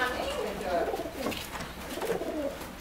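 A silver racing pigeon coos softly in a loft, low and close, with a few soft repeated calls under someone talking nearby.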